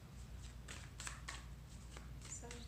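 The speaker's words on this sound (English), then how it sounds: "So I'm just shuffling" Tarot cards are shuffled by hand in a quiet room, making soft, brief riffling and slapping bursts at irregular intervals over a low background hum.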